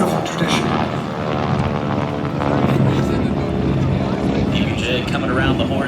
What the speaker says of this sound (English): PBJ coming around the horn again. Looks very similar to the B-25.